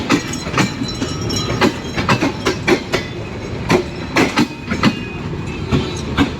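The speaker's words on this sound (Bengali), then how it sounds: "পাচ্ছেন কিভাবে ট্রেন চলে যাচ্ছে স্টেশন ত্যাগ করে" A train pulls out of a station, its wheels beating a steady clickety-clack of evenly spaced rail-joint knocks over a continuous rumble, loud and close with no talking.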